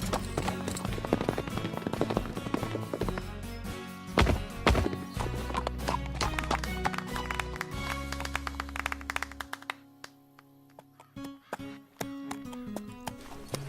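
Horse hooves clatter in a quick rhythm as a horse approaches a jump, loud and close, mixed with dramatic film music and scattered impacts, then thins out toward the end.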